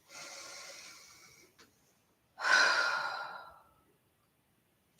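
A person breathes in slowly, pauses, then lets out a longer, louder breath through the mouth, close and clear in a quiet room with no talking.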